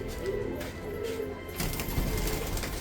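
Homer pigeons cooing in a loft, soft low throaty coos repeating under a busy background of rustling and faint noise, close by.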